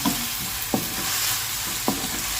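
Tomatoes seasoned with salt and pepper are stirred in a hot pan, a continuous sizzle with two distinct spoon scrapes against the metal, close and steady, without speech.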